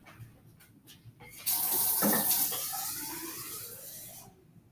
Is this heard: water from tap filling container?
yes